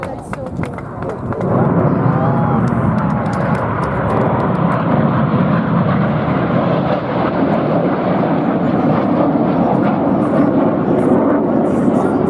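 Red Arrows jet aircraft fly an airshow display at the 2019 New York Airshow: a loud, sustained jet roar swells in and fills the whole stretch without a break.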